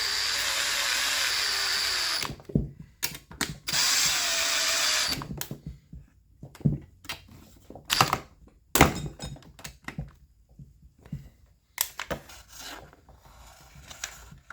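A power drill drives screws on a Stihl MS391 chainsaw during a fuel line replacement, with a couple of sustained whirring runs early on followed by scattered clicks, clunks and handling taps from the tool and saw body.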